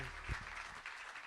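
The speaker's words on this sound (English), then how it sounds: "applause for Margot" Brief audience applause for a panelist named Margot at a Winnipeg panel discussion, a short dense patter of clapping that fades quickly with no speech over it.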